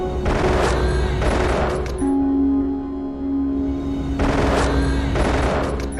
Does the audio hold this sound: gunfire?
yes